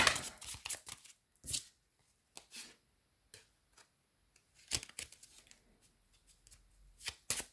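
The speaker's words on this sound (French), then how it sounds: "je vais dire 2 cartes du Lenormand pour voir un peu pour le mois de septembre" Lenormand fortune-telling cards being shuffled and drawn, close riffling and slapping bursts broken by short quiet gaps, with a few sharp card flicks.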